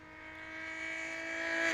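A race car engine at a GRIDLIFE track event drones steadily at a distance, its tone slowly rising as it accelerates, with no voices over it.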